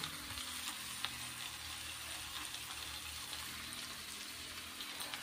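Fish pieces cooking in a thick masala in a pan give a soft, even bubbling sizzle, faint and steady for several seconds, with a few light stirring knocks and no voices.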